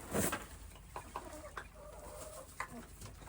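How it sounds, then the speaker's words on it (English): Quail calling in short soft clucks and chirps, scattered and fairly faint, with a louder burst near the start and a few brief calls spaced through the rest. "Do you like the quail? Are they so cute?"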